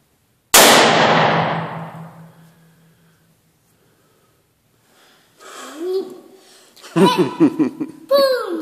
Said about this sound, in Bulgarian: Следващия изстрел.